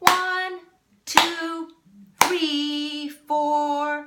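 Hands clap out the rhythm of Hot Cross Buns, four crisp claps each paired with a spoken count, the last two notes held longer, close and clear with silence between.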